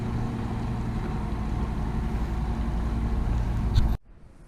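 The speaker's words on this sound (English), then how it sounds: "Lovely boat." A passing boat's engine drones steadily at close range at Fort Augustus on the Great Glen, a low rumbling hum that holds even, then cuts off abruptly near the end, leaving faint background noise.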